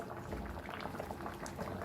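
A jackfruit and potato masala curry simmers on a medium flame, giving a faint, steady bubbling with soft popping.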